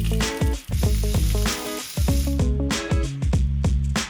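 Sausages frying loudly in a pan, with a dense, close crackling sizzle running throughout and bursts of louder spitting.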